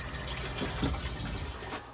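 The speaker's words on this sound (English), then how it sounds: "use the toilet, give it a good flush after use" An Elddis Majestic 115 caravan cassette toilet is flushed, giving a continuous rushing gush of water that lasts about two seconds with no voices.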